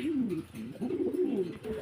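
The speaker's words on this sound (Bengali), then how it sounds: "কবুতর" Several pigeons on a pigeon farm coo nearby in soft, overlapping throaty rolls, continuing steadily for a couple of seconds.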